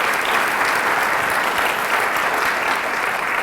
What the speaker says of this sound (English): How about another round of applause for our amazing mayor?